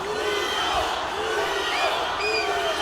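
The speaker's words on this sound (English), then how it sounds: "And the crowd's cheering for Hugo Flores." A crowd at a Sergio Cossío versus Hugo Flores fight cheers and shouts loudly and continuously, a dense roar of many voices filling the arena throughout.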